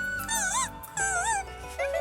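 A voice imitates a big dog, giving two drawn-out, wavering woofs followed by a shorter third one, close and fairly loud.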